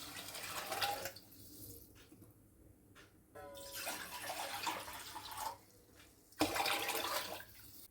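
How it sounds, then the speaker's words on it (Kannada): Water is poured over two cups of washed rice in a cooking pot, heard as several soft, quiet splashing pours separated by brief pauses. "ಈಗ ಇದಕ್ಕೆ ನಾನು ನೀರು ಹಾಕ್ತೀನಿ"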